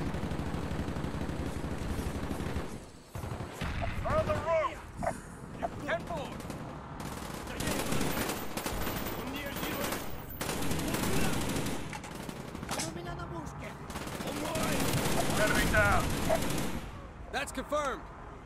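Gunfire in the video game Call of Duty: Black Ops, a veteran-difficulty campaign mission: loud, dense bursts of automatic fire and single shots in sustained volleys with short lulls, while a person talks over the game sounds.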